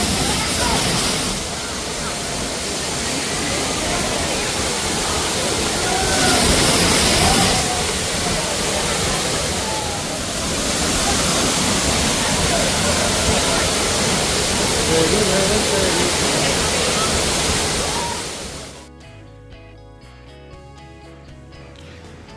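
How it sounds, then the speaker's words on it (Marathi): Dhangar waterfall in Badlapur, a dense continuous roar of falling water heard up close, loud and steady before cutting off near the end, with people talking. "खूप सुंदर असा धबधबा आहे"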